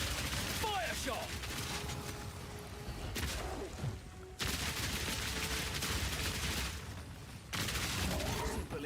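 Gunfire in the survival shooter Once Human, bursts of rapid shots and sharp impacts in a chaotic mix, broken by a few abrupt drops into near quiet, with talking over it.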